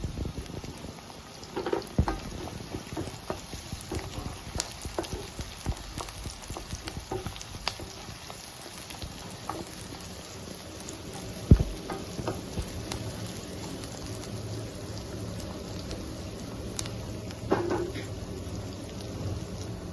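Country chicken curry with green chillies frying in a pan, a continuous close sizzle with scattered crackles and occasional stirring scrapes throughout.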